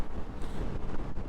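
Strong seaside wind buffets the microphone while riding a KYMCO KRV 180 scooter along a coastal road in Taiwan, a steady loud rumbling roar with no talk.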